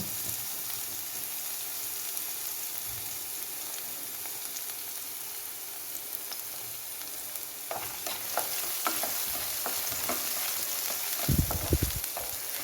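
Onions sizzling in hot oil for sambar, a steady quiet frying hiss, then a ladle scraping and stirring in rhythmic clicks and scuffs toward the end.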